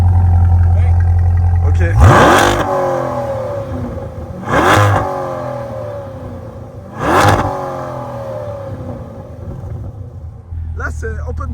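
Chevrolet Corvette C8 Stingray V8 revving hard three times from idle, each blip a loud close roar that falls back to a burbling idle, with brief talk nearby.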